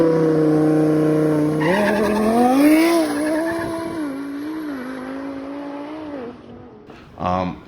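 A twin-turbo Lamborghini launches hard at a drag race, tires squealing loudly as the engine note climbs through a long sustained howl, then drops away before a brief burst near the end.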